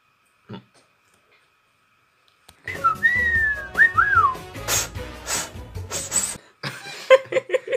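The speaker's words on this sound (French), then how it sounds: "La meuf, elle essaie de faire un sifflement" After a short silence, a person whistles a few rising and falling notes, close by, while laughter and chuckling break out around it.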